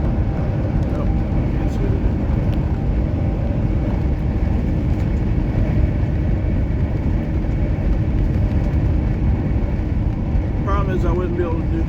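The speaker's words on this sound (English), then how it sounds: "There's a coal train on the Washington side right now." A continuous low rumble of a coal train passing in the distance across the Columbia River Gorge, steady and broadband, with faint squeaks near the end.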